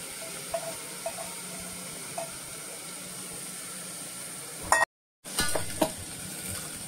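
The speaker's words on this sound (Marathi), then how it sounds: "हे जे तांदूळ आहेत हे तांदूळ आपण या पद्धतीनं हे परतून घेणार आहोत" Uncooked rice grains being stir-fried in a pan for a coconut rice dish, a steady soft sizzle and scraping with a brief cut to silence near the end.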